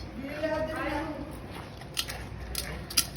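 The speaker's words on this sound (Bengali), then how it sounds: "সবজি খোসা আলু সব খাচ্ছে" A calf chews vegetable peels and potatoes up close with soft wet crunching and squishing, while a person talks over it.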